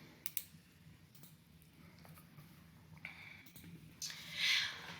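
A computer mouse is clicked a few times while building a Google Form. The clicks are faint, sparse and close, spread across a quiet room with no speech.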